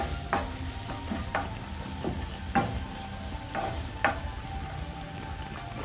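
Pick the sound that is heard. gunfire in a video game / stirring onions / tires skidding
stirring onions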